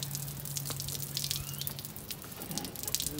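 Water runs from an RV faucet during winterizing of a travel trailer's water system, a faint trickle and scattered drips into a sink with light clatter, no talk.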